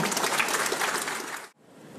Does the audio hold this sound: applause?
yes